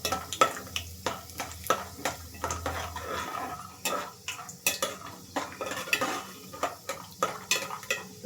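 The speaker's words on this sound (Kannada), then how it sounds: "ಕಾಯ್ದಿರೋ ಎಣ್ಣೆಗೆ ಕಡಲೆ ಬೀಜ ಹಾಕೋತಾ ಇದ್ದೀನಿ." Peanuts roasting in hot oil in a pan, with a steady soft sizzle under repeated close metallic scrapes and clinks of a spoon stirring them.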